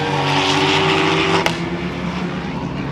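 An MK5 VW Golf race car roars along a track, loud as it nears and passes, then drops to a fading engine note after a sharp burst.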